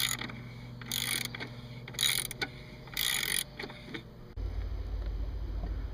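A ratchet wrench clicks in three quick bursts while the alternator belt tensioning bolt on a Subaru is tightened. The clicks are close and sharp over a low running hum, and a deeper drone takes over near the end.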